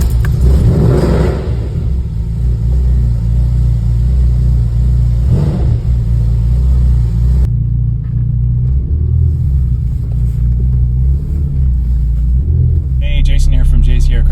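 A Ferrari 328 GTS V8 engine rumbles loudly and steadily, swelling as it revs, with voices talking faintly underneath.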